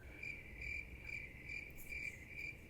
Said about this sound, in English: Yeah, it's crickets.